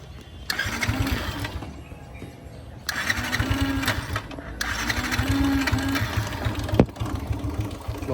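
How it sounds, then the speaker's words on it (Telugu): A motorbike engine starts and settles into a buzzy, rattling run that holds steady close by, broken by a short pause before it picks up again. "బండి ఆన్ అవుతుంది."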